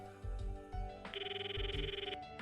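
Phone ringing tone in a visual novel game: short low buzzing pulses, then a steady warbling electronic ring that trills for about a second before fading, fairly quiet with no talk.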